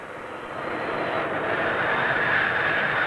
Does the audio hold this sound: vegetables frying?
no